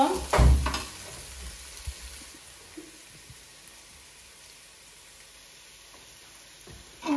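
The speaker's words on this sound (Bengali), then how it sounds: "পেঁয়াজটা বালা করে ভাজা হয়ে গেলে" Onions fry in a pan with cumin for Sylheti plain pilau, a soft steady sizzle after a brief clatter at the start, quiet and continuous with no talking.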